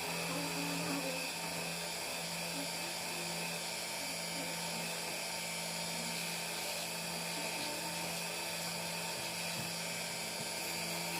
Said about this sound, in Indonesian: nanti langsung diamplas gerinda